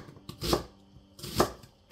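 An onion being chopped with a knife on a board, two distinct crisp cuts about a second apart, close and clear with no talking.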